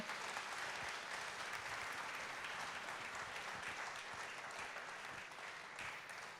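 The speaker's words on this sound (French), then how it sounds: "Merci, on vous applaudit très fort." An audience at a public debate in Montpellier applauds warmly, with dense, steady clapping that fills the whole stretch at an even level and no voices over it.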